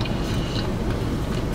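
Crunchy bites into a Chick-fil-A spicy chicken sandwich with pickles, heard close to the mic as a steady run of dense chewing and crunching with a sharper crisp snap near the end, no talking.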